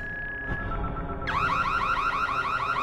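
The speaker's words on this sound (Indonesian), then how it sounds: "suara alarm itu sangat mengganggu kakek Norman" An emergency alarm from the film Don't Breathe starts with a steady high beep, then bursts into a loud, rapidly warbling siren that repeats in quick sweeping cycles, alone and close.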